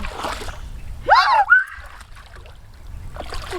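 Water splashed out by hand while catching fish, heard as a short burst of two close, wet splashes and sloshes near the middle, set against quiet outdoor background.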